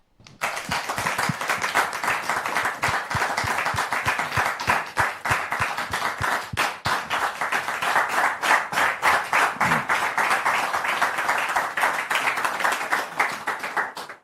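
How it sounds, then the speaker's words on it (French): A public audience applauds to welcome a guest onstage, dense continuous clapping with distinct sharp individual claps throughout, sustained at a steady level for the full length. "Merci pour vos applaudissements"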